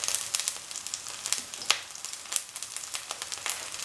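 Ginger and garlic frying in a pan for spicy okra fried rice, a steady close sizzle with frequent small crackles and pops throughout, no talking.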